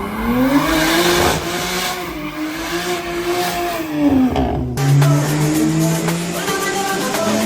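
A 700-horsepower BMW M2 built by BYM Fabrication drives hard, its engine rising and falling in pitch through gear changes, with a sharp shift midway and steady loud revving throughout.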